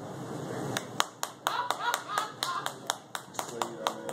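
A comedy club audience clapping in separate distinct claps rather than full applause, close and irregular, with someone talking over them.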